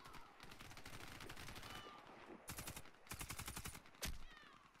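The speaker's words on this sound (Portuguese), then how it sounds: "Ai, tô tomando tiro." Gunfire in the shooter game Warface with a Galil AR: bursts of rapid automatic shots crack out in clusters over a steady background of in-game noise, the closest volley landing loudest near the end.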